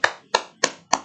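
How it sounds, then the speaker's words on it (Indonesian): Four slow, evenly spaced hand claps in a lecture hall during a law lecture, each a sharp near slap with a short decay, with no talk over them. "Tepuk tangan."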